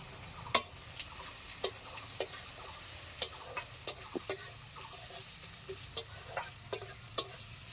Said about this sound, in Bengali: তেল গরম হয়ে গেছে পুরনে দিয়ে দিচ্ছি শুকনো লঙ্কা তেজপাতা কাঁচা লঙ্কা চিরা পেঁয়াজ কুচি